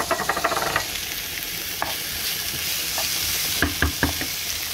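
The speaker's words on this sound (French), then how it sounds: "Je vais y rajouter mes tomates. Alors on va les faire cuire légèrement, pas plus d'1 minute." Diced tomatoes in brunoise fry and sizzle steadily in a hot pan while being stirred, with sharp scraping clicks of the utensil, a busy crackling burst at the start and several loud strikes near the end.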